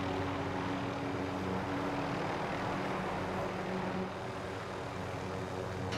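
A helicopter in the video game Warzone Pacific, heard as a steady, loud rotor and engine drone that runs without a break through the whole stretch, with no voices over it.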